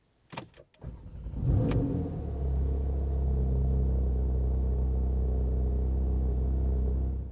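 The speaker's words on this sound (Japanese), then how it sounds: "ではエンジンを始動します" A 2018 Porsche 911 Carrera T (Type 991) engine cranks with a couple of sharp clicks, then catches and settles into a steady, deep idle rumble that continues to the end.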